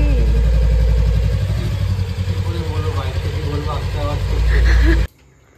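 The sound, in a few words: motorcycle engine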